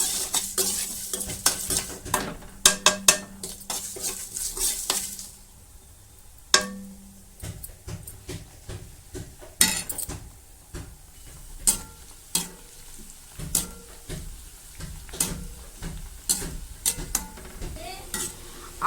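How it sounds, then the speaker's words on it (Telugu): Onions frying golden brown in a pan for chicken dum biryani, a low sizzle beneath frequent sharp clinks and scrapes of a spoon stirring against the pan, close and without talk. "ఆనియన్స్ ఇలా వేగిపోయాయండి గోల్డెన్ బ్రౌన్లోకి"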